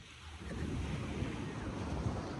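Ocean waves at high tide on a beach, a steady close surf wash with wind noise, continuous and fairly loud.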